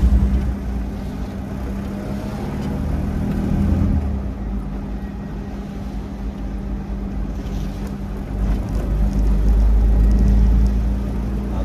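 A Tofaş car's engine running close by, a loud low rumbling idle with a deep throb that swells and eases, no one talking.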